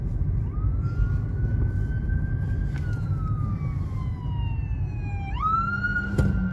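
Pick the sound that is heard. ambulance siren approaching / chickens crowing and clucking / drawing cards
ambulance siren approaching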